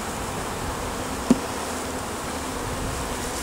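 Agitated honeybees buzzing steadily at an open hive during handling, a dense close drone with one brief louder tick, no talk over it.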